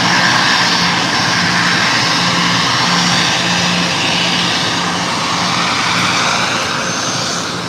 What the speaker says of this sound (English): And this is a Bombardier Global 5000.